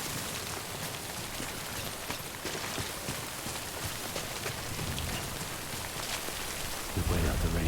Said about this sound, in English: We wait out the rain over there.